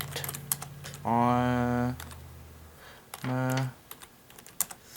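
Keyboard typing as notes are written for a Dungeons & Dragons 5e character, a quick run of clicky keystrokes scattered between and under stretches of a voice.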